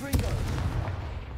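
A Confringo fire spell is cast in the video game Hogwarts Legacy, a sudden booming blast with a deep rumbling tail that rolls on for about a second, loud and close.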